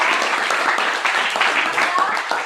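Children in a classroom clap together in a loud, steady burst of applause, with some voices mixed in among the clapping.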